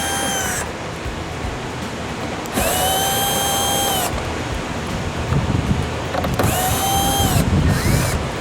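A powered T25 Torx driver removes the lower spot mirror bolts on a Freightliner Cascadia truck, whirring in loud bursts that rise and fall in pitch, with steady outdoor wind noise between them.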